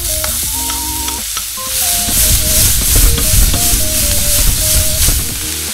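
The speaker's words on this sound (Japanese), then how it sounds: "残った油でじわじわと軽く色づいてきたら玉ねぎを投入しましょう" Onions go into a frying pan after garlic softens in leftover oil over low heat, a steady close sizzle with scraping stirs and tonal clinks on top, growing louder as the onions hit the oil.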